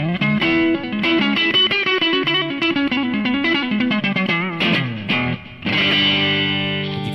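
A Harley Benton Black Paisley electric guitar with Roswell pickups plays a distorted, effects-laden lead line, close and loud, with fast notes and a brief drop before held chords ring out.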